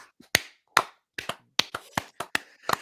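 A few people clapping sparsely and unevenly on a podcast, about a dozen sharp, separate claps, close and dry, with gaps between them.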